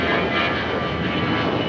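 Airplane engines roar steadily through a takeoff run at Los Angeles International Airport, a loud, continuous broadband rumble that stays constant with no pauses.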